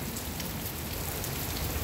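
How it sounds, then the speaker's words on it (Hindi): Heavy monsoon rain in Jalandhar, Punjab, pours steadily in a dense, constant hiss with no pauses, loud and close, with no voices. "आज 28 जुलाई की बारिश जो है बहुत तेज और जोरदार बारिश गिर रही है"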